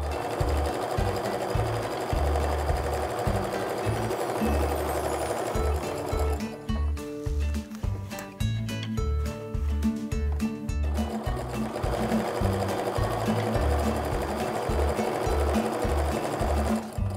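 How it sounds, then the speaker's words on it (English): Sewing machine stitching quilt fabric triangles to a large diamond, a steady close mechanical whir with rapid rhythmic needle thumps, pausing briefly midway before running again. "Now we're gonna repeat sewing the left triangle to our large diamond."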